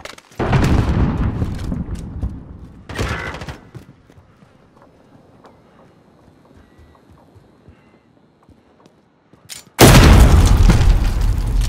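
Missile strike explosions in Modern Warfare, Cyber Attack mode: two heavy, loud booming blasts early, then quiet rustling and faint distant gunfire, and a final massive roaring detonation that swells and sustains to the end.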